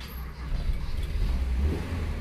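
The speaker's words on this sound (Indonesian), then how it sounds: "Jadi starter sambil digas." A carbureted old Toyota Kijang 5K engine cranks and revs at close range, a steady low rumble swelling slightly as the throttle is blipped, with no talk over it.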